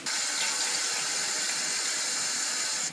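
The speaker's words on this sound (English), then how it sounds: "So I just put enough water in it to keep them all happy" Water pours steadily into a lily flower arrangement, a close, continuous splashing stream that runs for a few seconds before stopping abruptly.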